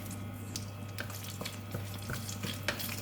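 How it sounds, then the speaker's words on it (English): Clove, star anise and curry leaf hit about two tablespoons of hot oil in a pan, giving a steady close crackling sizzle with scattered sharper pops over a low hum. "In the pan, I have about 2 tablespoons of hot oil. I'm going to put in the clove, the star anise, curry leaf."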